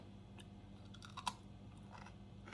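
Someone chews crunchy pickled okra close to the microphone, giving faint crisp crunches with one louder bite in the middle, quiet and without talk.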